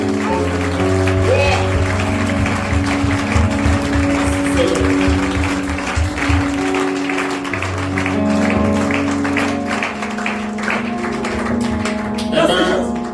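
A church congregation at an ordination service applauds with rhythmic clapping, mixed with voices and chanting, loud and close, the claps thinning out toward the end.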